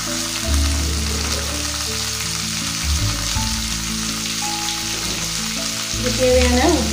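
Chopped ripe tomatoes hit hot oil and sauté for tomato rice, giving a loud, steady sizzle with scraping stir strokes throughout, close up and without voices.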